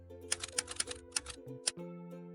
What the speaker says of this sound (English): a typewriter sounded like thinking, like effort, like something that mattered was being put down on paper, one letter at a time